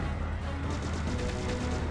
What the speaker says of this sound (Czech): už pro nás střílí rakety